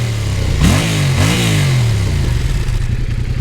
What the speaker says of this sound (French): Ça a un joli son rock après une fois qu'on accélère.